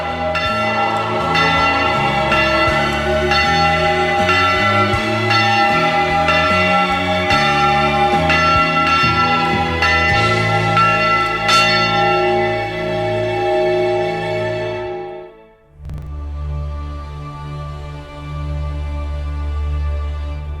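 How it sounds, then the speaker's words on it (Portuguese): Enormous church bells in tall towers among valleys and mountains ring loudly in a rapid overlapping sequence of strikes, briefly dropping away before resonant tolling resumes. "lindas igrejas, com torres altas e sinos enormes que soam entre vales e montanhas"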